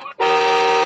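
A toy Ferrari car's electronic horn sounds one loud, sustained buzzy tone lasting under a second, preceded by a brief clipped blip and a short gap.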